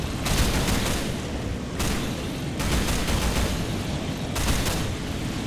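Rapid turret gunfire in the Minecraft Techguns mod, dense continuous fusillade bursts with brief gaps between volleys, loud and close with no talking.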